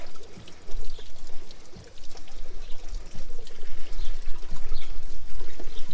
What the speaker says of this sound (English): Go ahead and turn on some water.